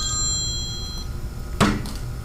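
An office telephone rings for about a second with bright, tonal electronic chirps, followed by a sharp knock or click as the ringing stops, with low room noise throughout.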